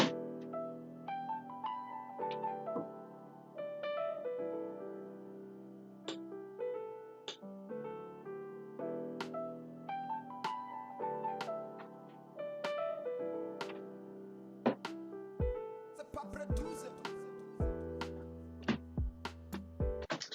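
An Afrobeat instrumental at 109 BPM plays back from FL Studio, with layered melodic synth chords over a steady rhythmic groove and punchy percussion hits that grow denser toward the end, with no voices.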